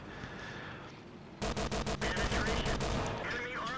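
Tank cannons and guns in the World of Tanks game, including a Tier 3 T-82 tank destroyer alongside a Panzer IIJ: a quiet stretch breaks into a rapid run of loud, sharp gunfire bursts, fired in quick repeated succession.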